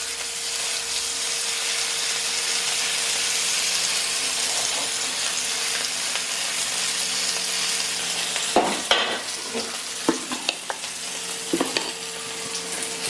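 Oil sizzles steadily on a hot dosa griddle while a masala uttapam is made, a constant frying hiss with a few sharper crackles and clinks toward the end.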